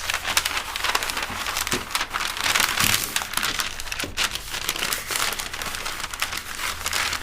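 Crepe paper crinkles and rustles steadily while a hand-tied flower bouquet is wrapped in pre-cut squares, giving close, continuous crackling with scattered sharper crunches and no talk.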